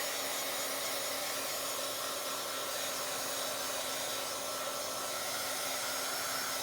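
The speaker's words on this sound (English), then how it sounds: "So let me get my dryer, my machine, my heater. Okay, I'm gonna start drying this." A handheld heat dryer blows hot air over a Bible journal page with a steady, loud whooshing hum and a faint tonal whine, running unbroken with no voices.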